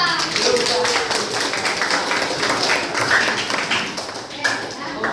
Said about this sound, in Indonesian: Tepuk tangan untuk Ulfa.